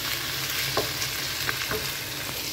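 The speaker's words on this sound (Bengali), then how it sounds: "আর এখানে আমি যে পুঁই শাক অল্প একটু ভাজি করতেছি আমার বোনের জন্যে।" Malabar spinach (pui shak) stir-fries in a pan, a short steady sizzle with a few soft stirring scrapes, close and alone.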